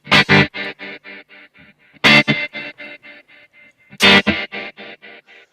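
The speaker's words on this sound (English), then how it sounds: "so now you can hear this tremolo effect on the reverb like on the old Fender vintage amps" Guitar played through a Kemper Profiler with tremolo on the reverb, vintage Fender amp style: three struck chords, each decaying tail pulsing in a steady rhythmic throb, loud and alone.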